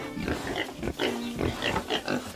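Pigs on a farm grunting and oinking in a busy barn, several short snorts and squeals overlapping continuously at moderate loudness with no talk.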